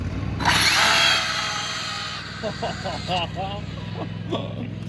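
An Arrma Infraction V2 RC car's motor runs at full power in a loud, high whirring burst that fades after a couple of seconds, followed by a short spoken remark.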